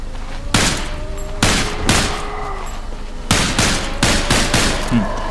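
Rapid bursts of gunfire in a horror shooter video game, fired at approaching enemies, come as several dense volleys separated by short pauses, loud and close.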